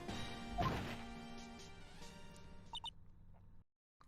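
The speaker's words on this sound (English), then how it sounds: "Something fell off the table when he bumped into it on his way out." An object knocked off a table falls and smashes in the Ace Attorney video game, a crash with ringing debris over a faint background that fades to silence.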